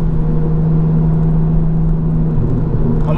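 A 275 BHP VW MK5 Golf R32 with its V6 engine drones under acceleration, a loud steady low hum that holds for a few seconds and swells slightly at the end.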